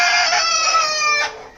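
A rooftop aviary rooster lets out another close, loud crow, a short sustained call that trails off after about a second.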